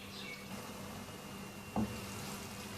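Soft, steady sizzle of chicken tikka boti masala simmering on low heat in a pan, faint and even, with one brief clink partway through.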